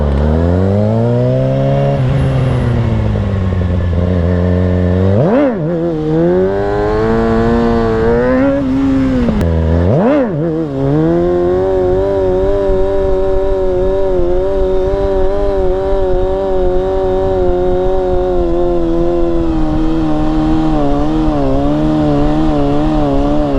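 A Kawasaki 636 stunt motorcycle being ridden through wheelie and stoppie practice, its engine loud and close, revving up and down in long sweeps with sharp throttle blips and sustained high-rpm stretches.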